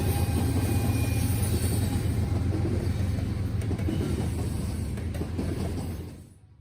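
Norfolk Southern freight train NS 143, with a distributed power unit, rumbles past close by in a steady, loud roar with wheel clatter, then fades abruptly near the end.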